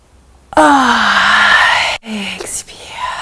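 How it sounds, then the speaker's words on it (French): A deliberate, drawn-out yawn made during a relaxing self-massage exercise, with a voiced, falling moan on a long inhalation, followed by a shorter second yawn-like breath; close and fairly loud, with no talking. "On provoque le bâillement."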